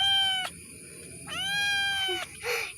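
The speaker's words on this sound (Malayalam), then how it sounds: "ഇതാണ് എൻ്റെ പൊന്ന, എൻ്റെ സുന്ദരി പൂച്ചക്കുഞ്ഞാണത്." A small kitten gives three clear, high-pitched meows at close range, separated by short pauses over a quiet background.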